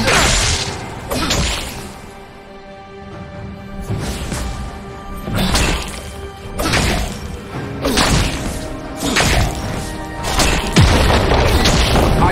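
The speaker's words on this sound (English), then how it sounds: "Your team has destroyed a turret." A turret is destroyed in a League of Legends bot match: repeated heavy booms, thuds and crashing impacts land every second or two, loud and close, mixed with whooshing game effects.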